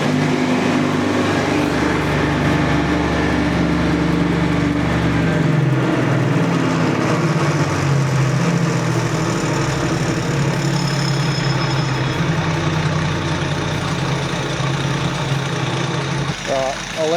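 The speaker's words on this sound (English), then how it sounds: "I'll let that idle down for a sec, switch it off" An engine idles steadily and fairly loud with a low rumbling drone throughout, ahead of a breakdown repair with lug nuts to be fitted; a voice speaks over it.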